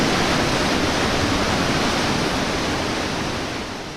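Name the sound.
waterfall roaring in Indonesian rainforest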